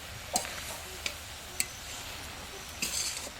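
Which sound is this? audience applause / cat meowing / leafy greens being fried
leafy greens being fried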